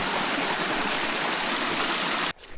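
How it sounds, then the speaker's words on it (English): River water rushes in a dense, steady roar on a rainy mountain hike in the Picos de Europa, loud and close, then drops off abruptly near the end. "going through a river"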